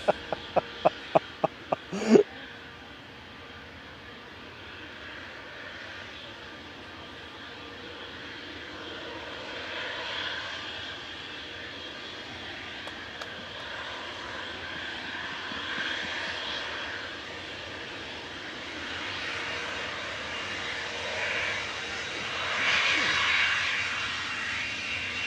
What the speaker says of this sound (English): So a little Cessna citation here, heading back down to Biggin Hill, OK XLS with flight 763.